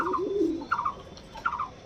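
Giribaz pigeons coo close by: a low rolling coo, then two shorter, brighter coo calls spaced about three-quarters of a second apart, with no voices over them.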